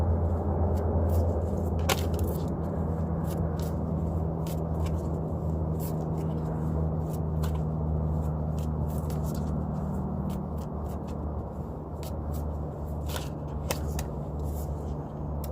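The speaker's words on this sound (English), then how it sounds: "I need to shuffle again. I didn't shuffle." Cards shuffled repeatedly up close, a soft riffling patter with sharp snaps scattered throughout, over a low steady background hum.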